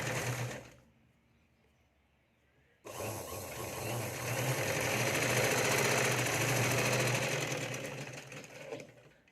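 Sewing machine stitching the finishing seam of a puffed sleeve: a brief whir, a pause of near silence, then a loud, fast, steady mechanical rattle running for several seconds close by.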